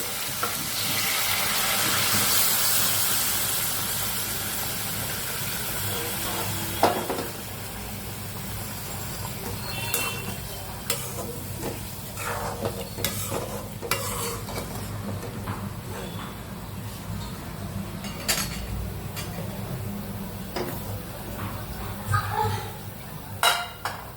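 Hot water poured into a hot pan during cooking of a fish dish with local Assamese herbs, giving a broad steady sizzle with clinks and scrapes of stirring, loud and close throughout.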